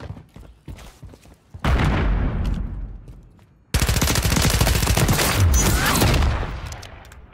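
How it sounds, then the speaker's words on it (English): Rapid bursts of automatic gunfire from a ranked-mode shooter video game, loud and sustained with short gaps, the firing growing denser and more intense in the second half. "They're rushing me with bullets."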